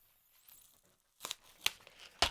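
A foil-lined paper packet is ripped open by hand in a quiet room, with three or four sharp, brief tearing bursts after a near-silent pause.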